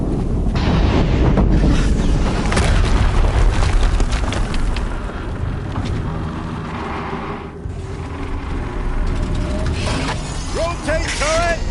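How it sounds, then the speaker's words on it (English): A loud, rumbling explosion fills the scene in the video game Horizon Zero Dawn, a heavy sustained boom with debris-like crackle that lingers and slowly settles, with sharp mechanical chirps near the end. "Another explosion."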